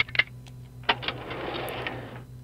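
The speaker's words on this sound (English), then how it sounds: "The desk is locked. Let's use the lockpick." Lockpicking a locked desk in the Resident Evil 2 game, a run of small clicking metallic ticks followed by a longer scraping rattle, close and moderately loud over a low steady game hum.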